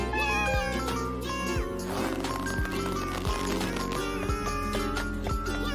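Cartoon cats meowing and calling loudly, with repeated drawn-out meows layered over a continuous musical backing and soft rhythmic thumps.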